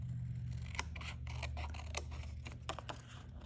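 Scissors snip out a layered paper junk journal dangle: a close, quiet run of crisp cuts in an uneven rhythm, heard alone.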